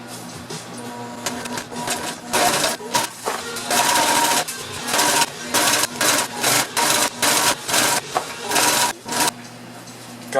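A sewing machine stitches canvas for a boat bimini in a long run of rapid mechanical whirring, loud and close, broken by short pauses and restarts toward the end.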